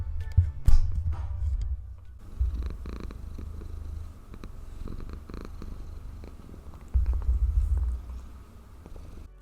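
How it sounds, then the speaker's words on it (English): A cat lying on sewing fabric purrs close up in low, rumbling pulses that swell and ease, with faint rustling around it. "Get some cat ASMR."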